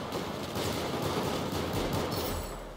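Rapid handgun fire from a Compact 45 pistol in Battlefield 4 multiplayer: a dense, continuous clatter of shots and battle noise, loud and close throughout.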